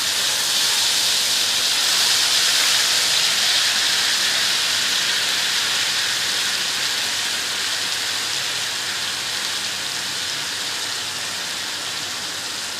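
Spiced masala with garam masala fries in a hot pan, giving off a loud, steady, hissing sizzle that continues without a break and fades slightly near the end.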